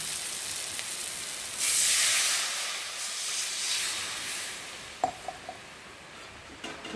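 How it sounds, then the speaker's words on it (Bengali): Water poured into hot oil and fried spices for a rohu fish curry, letting out a loud steaming hiss that swells and then settles into a steady sizzle, with a few light clinks of a utensil near the end. "আর এখন আমি জল দিয়ে জলটাকে ফুটিয়ে নেব"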